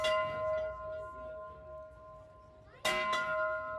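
A large bell, rung by a cancer survivor, rings with a sustained, humming tone that slowly fades, then is struck loudly again twice near the end.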